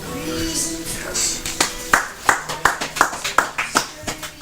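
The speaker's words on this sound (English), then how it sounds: "I had to clap after that one" Audience applause breaks out after a poem reading at a literary cafe talk show, a quick run of close, sharp hand claps that follows a moment of voices.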